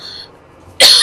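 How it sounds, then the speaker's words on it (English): A single sharp, loud cough bursts out near the end after a quiet stretch of faint room noise, close to the microphone. "I've got a cough."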